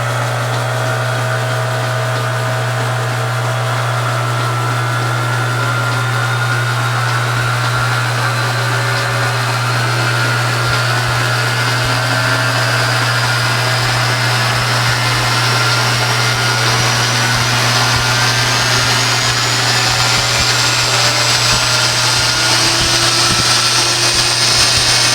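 A Monarch 10EE lathe spindle runs on a new SCR drive at about 1800 RPM, a steady loud whine with a constant low electrical hum and a pitch that rises slowly as it speeds up.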